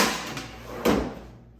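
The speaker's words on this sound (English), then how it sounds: "The snapping you're about to hear is the actual breaking of the drawer slide." A wooden drawer slide snaps as it breaks in a woodworking shop: one sharp crack that fades quickly, following a soft knock, close and alone with no talk.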